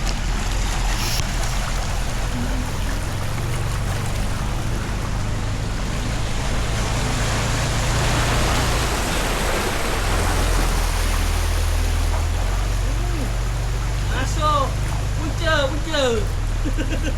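Boat motor running across flood water in a Bagan Datuk village, a steady low engine drone under wind and water wash throughout, with voices talking over it.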